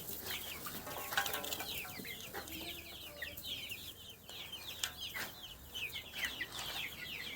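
Desi chickens on a poultry farm cluck and chirp continuously, many birds close by in a steady overlapping chorus with no speech over it.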